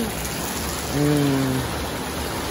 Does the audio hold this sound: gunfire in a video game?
no